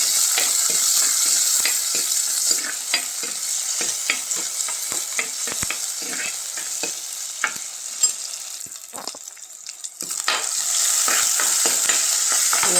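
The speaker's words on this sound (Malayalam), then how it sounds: "എല്ലാത്തൊന്ന് വഴറ്റണം." Onion, garlic, ginger and tomato sauté in a hot pan with a loud, steady sizzle, while a spoon stirs and scrapes in frequent close strokes throughout.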